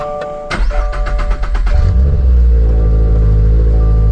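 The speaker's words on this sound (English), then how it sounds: "This is a cold start." A starter motor whirs in rapid pulses, then a Subaru BRZ engine on its stock intake catches from cold and settles into a loud, steady idle close by.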